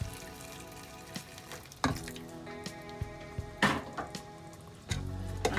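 Water is poured into a hot pan of potato and pea curry in tomato sauce, bringing bursts of sizzling and bubbling along with clinks of a spoon against the pan, close and fairly loud.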